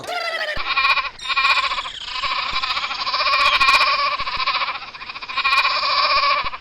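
Several goats bleat loudly and continuously at close range, their wavering harmonic cries overlapping with one another almost without pause.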